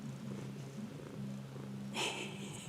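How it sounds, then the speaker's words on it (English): Kimchi, a pet cat, purring loudly and steadily up close in a continuous low rumble, with a brief brighter rustle near the end. "He's purring really loud here."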